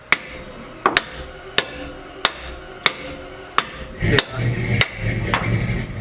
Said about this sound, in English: So take a good old hammer.